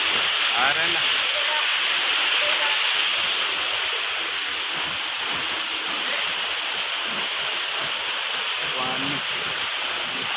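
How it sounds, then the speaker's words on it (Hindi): Bijakasha waterfall in Bastar pours in a constant, broad hiss of rushing water, loud and unbroken for the whole stretch, with faint voices and a few short calls buried beneath it. "हम पहुंच चुके हैं बिजाकसा वाटरफॉल"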